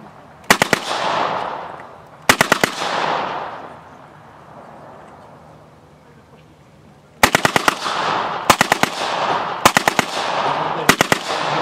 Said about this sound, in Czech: kulomet cílí moc blízko, takže nastavuje 300 metrů